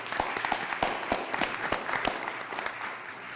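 Applause breaks out at a city council meeting: a brisk, moderately loud patter of hand claps from a small group, steady for a few seconds with little voice underneath.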